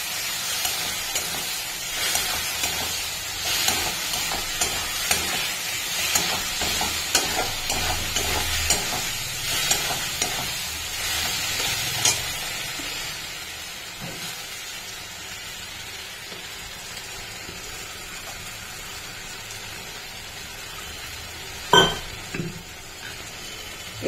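Spices and curd being stir-fried in a pan, a steady close sizzle with repeated stirring scrapes through the first half, then a quieter simmering hiss, a couple of sharp clinks near the end.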